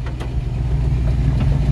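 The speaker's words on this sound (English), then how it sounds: "It's got a really nice sounding exhaust" A 1953 Chevrolet 3100 pickup truck engine running through its exhaust, a steady low rumbling idle with a throbbing pulse, close and loud, with no talking.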